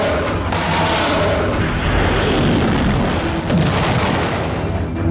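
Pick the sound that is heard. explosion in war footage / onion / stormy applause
explosion in war footage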